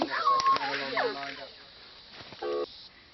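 A telephone dials a call home from the jungle in Borneo: a short run of electronic keypad tones near the end, faint, after some quiet talk and background sounds.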